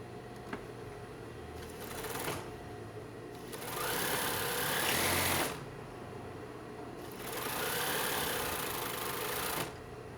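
A sewing machine stitches fabric for an unpadded bra in two close, steady bursts of rapid mechanical chatter separated by short pauses, with quiet handling noise between runs.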